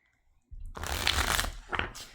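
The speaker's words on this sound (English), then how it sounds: "Look at that shuffle. That is a magician shuffle right there." Tarot cards being shuffled in a riffle-style magician shuffle, a dense close papery flutter starting after a short silence and running continuously, with a brief second riffle near the end.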